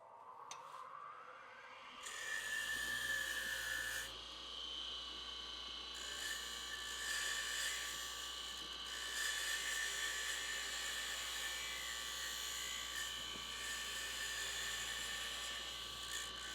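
Tiny wooden bowl spinning on a wood lathe as a tool smooths off its rough edge, a steady high-pitched whirring drone that starts abruptly after a quiet moment and holds near and loud throughout.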